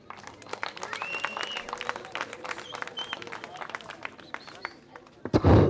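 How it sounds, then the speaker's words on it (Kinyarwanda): Scattered hand claps from an audience run beneath a talking voice, then swell into a louder burst of applause at the end. "Nagira ngo mbasabe mu bamera amashyi"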